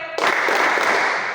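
A few rhythmic hand claps from a group of schoolchildren playing a clapping game in a classroom, loud and close, blending into a dense burst with no talking over it.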